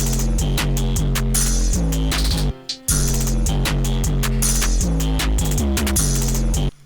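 An 808 beat plays back in FL Studio 11, with heavy booming sub-bass kicks and crisp percussive hits in a steady loud pattern and a brief dropout midway, with no voices.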